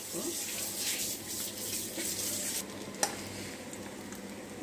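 Ingredients for egg keema curry roasting in a pan, a steady close sizzle with stirring scrapes and a sharp clink, continuous and fairly loud.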